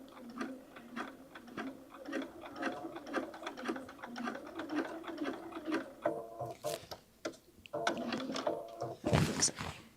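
Sewing machine stitching a bag seam to close off the top of a handmade bag, a steady run of rapid stitching followed by short bursts, clicks and a brief louder whir near the end, with no talking.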